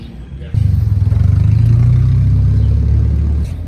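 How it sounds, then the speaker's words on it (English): A Toyota Corolla drifting at a gas station, its mid-pitched engine surging loud and close in a sustained roar with rapid revving pulses, cutting in abruptly after a quieter lead-in and easing off near the end. "More drifting today here at the gas station."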